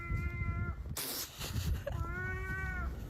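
Cat-like meows mimicked by school kids' voices, two drawn-out harmonic calls near and fairly loud, separated by a burst of noise, with a constant murmur of background chatter underneath.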